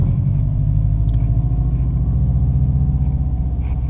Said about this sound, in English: Light turns green, clutch in, first gear, give it some gas, and friction zone, and we're going.